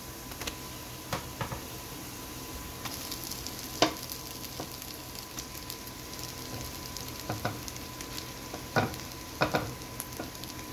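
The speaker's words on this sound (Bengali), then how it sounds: "ভর্তাটা খুব সুন্দর ভাজা ভাজা করে নিচ্ছি।" Mashed potato frying in oil with browned onions, a quiet steady sizzle broken by occasional spoon clicks and scrapes against the pan.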